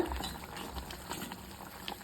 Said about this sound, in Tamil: நல்லா குழம்பு கொதிக்குது பாருங்கள்.